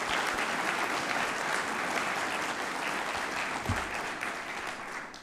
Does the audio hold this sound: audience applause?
yes